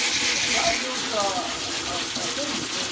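Pressurized water spray hisses steadily while washing guava seeds out of fruit pulp, a broad continuous gush heard close up, with faint voices in the background.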